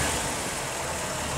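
A 1964 Chevrolet Corvette Stingray convertible with a 327 V8 idles with a steady low rumble, close and even throughout a short stretch with no talking.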